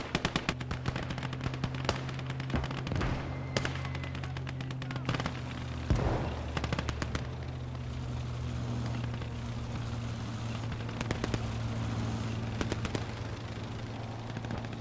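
A tank fires amid a heavy World War II trench battle in the strategy game Call to Arms: Gates of Hell, with repeated booms over continuous machine-gun rattle and a low engine drone.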